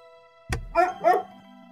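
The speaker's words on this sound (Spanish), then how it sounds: "Y había perros, como se podía oír en el fondo" A dog barks in a park in the video game Ghost Trick: one sharp bark followed by two quick yipping barks, fairly close and over a faint background of game music.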